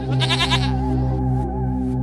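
A goat bleats loudly in a single drawn-out, wavering call, close by and alone with no talk over it.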